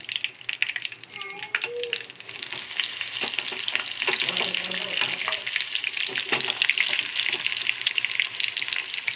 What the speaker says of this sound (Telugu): అన్నీ అయితే ఇట్లా కోట్ చేసి పెట్టుకొని ఆయిల్లో ఫ్రై అయితే చేసేస్తున్నాము ఫస్ట్